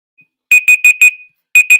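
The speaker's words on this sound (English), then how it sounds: "All right, timer is up." A timer alarm goes off with a loud, close run of sharp electronic beeps, four in quick rhythm, a brief pause, then three more, alone with no talking.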